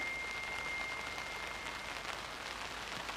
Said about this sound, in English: it's decided to start raining again. Coming down quite a bit now as well.